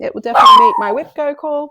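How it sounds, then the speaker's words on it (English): A pet dog barks a few times close by, mixed in with someone talking over it. "that was my dog protecting us from the world"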